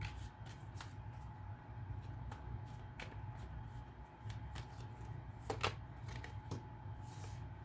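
Tarot cards being shuffled by hand: soft, quick riffling and sliding card sounds in irregular bursts, close and quiet, with a few crisper snaps, no talking.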